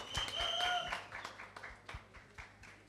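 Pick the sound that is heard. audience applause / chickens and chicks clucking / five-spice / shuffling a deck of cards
audience applause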